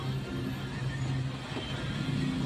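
Road traffic in rain rolls past as a continuous low engine rumble, steady and moderately faint, with no distinct passing vehicles standing out.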